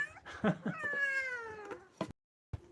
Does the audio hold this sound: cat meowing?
yes